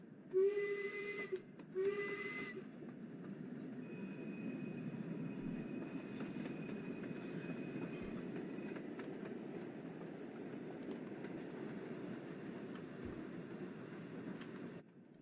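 Steam locomotive from Train Sim World 2's Spirit of Steam pulling a passenger train: two loud whistle blasts open, then a steady chuffing rumble with hissing steam runs continuously underneath, close and alone.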